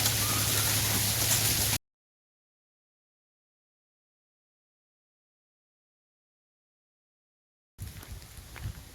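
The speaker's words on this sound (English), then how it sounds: "So after that display of thunder, lightning, rain, hail" Heavy rain and hail from a thunderstorm beat down steadily on the Appalachian Trail, a dense, loud hiss that breaks off, falls silent for several seconds, then resumes at a lower, patchier level.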